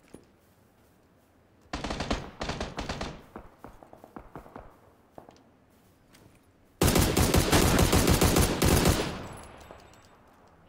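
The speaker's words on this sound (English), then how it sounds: "He was firing at somebody." Gunfire in the video game PlayerUnknown's Battlegrounds: a rattling automatic burst of rapid shots, then scattered single cracks, then a second long, loud, sustained burst that fades out, with quiet stretches in between.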